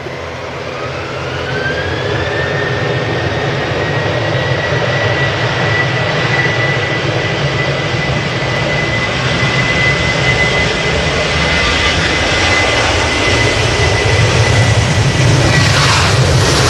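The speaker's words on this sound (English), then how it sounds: "this noisy little Loganair that's going to go to Aberdeen go past" Loganair airplane bound for Aberdeen passing at Manchester Airport, a loud sustained jet engine roar with a rising whine that holds steady as it goes by, alone without talk.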